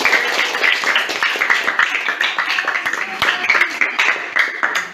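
An audience claps in a classroom, a dense, fairly loud patter of many hands that keeps going evenly with small swells and no talk over it.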